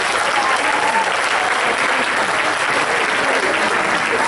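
A crowd applauds loudly and steadily throughout at a vote-of-thanks ceremony, a dense wash of clapping with no break.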